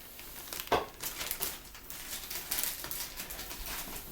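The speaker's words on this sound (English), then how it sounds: "we put the suction catheter, back in the plastic bag" Crinkling rustle of a plastic bag as a suction catheter is slipped back inside, with a sharp crackle near the start followed by softer, ongoing crumpling.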